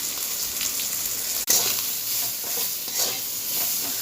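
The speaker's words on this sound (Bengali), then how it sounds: "কড়াই গরম হয়ে গেছে, তেল দিয়েছে, পাঁচফোড়ন দিয়ে দিয়েছে, আম দিয়ে দিয়েছে, ভাজা হয়ে এসছে" Mango pieces frying in hot oil with panch phoron in a pan, a steady close sizzle with stirring scrapes, one brief sharp click partway through, no voices.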